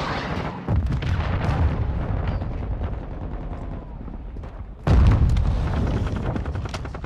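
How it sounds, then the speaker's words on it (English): Cruise missile strikes in Call of Duty: Modern Warfare II, heavy booming blasts with a rumbling tail, one near the start and a second louder impact about two-thirds through, over continuous battle noise. "Hostile cruise missile launched."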